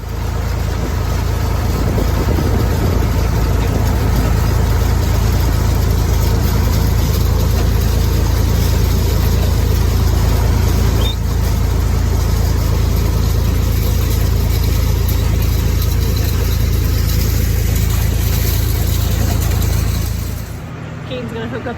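A tractor engine runs steadily in a hay field during raking. Its loud, constant low rumble continues almost unchanged for about twenty seconds before dropping off slightly at the very end.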